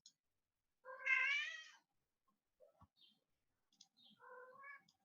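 A house cat meows twice with quiet rustles and small taps between the calls, near and distinct in an otherwise silent room.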